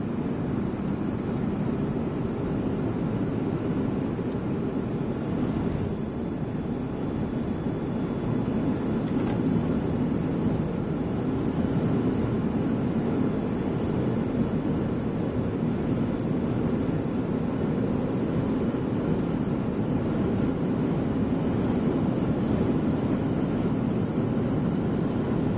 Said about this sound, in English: This wind is still seriously just blowing me all over the road, folks.